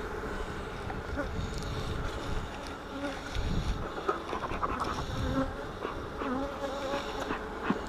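Honeybees buzz in a dense, steady drone around an open hive during a colony transfer into nucs, close and continuous, with faint handling noises.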